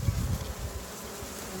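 Honeybees buzzing up close during a hive inspection, a low continuous droning hum with slight fluctuations, steady and moderately quiet with no talking.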